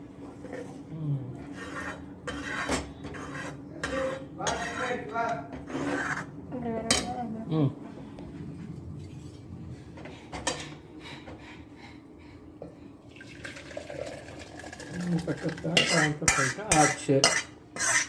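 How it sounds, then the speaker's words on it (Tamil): Cooked drumstick and onion arachuvitta sambar is poured and scraped from one pot into another, with metal ladle clinks, steady stirring and scraping against the vessel, louder clatter toward the end. "இந்த கண்டிஷனில் அதை அப்படியே இன்னொரு பாத்திரத்தில் ட்ரான்ஸ்ஃபர் பண்ணிடணும்."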